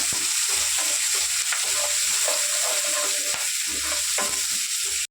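Onions and curry leaves fry loudly in a pan, giving a dense, constant sizzle with stirring scrapes throughout and no talking.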